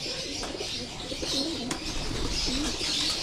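Pigeons coo in low, rolling phrases at a pigeon loft in Marikina, several birds calling steadily and close, with faint chirps over a constant background hum.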